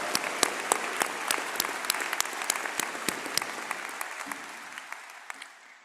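Sustained applause from a large commencement audience honoring university award winners, dense clapping with a few sharper claps standing out, gradually thinning and fading toward the end.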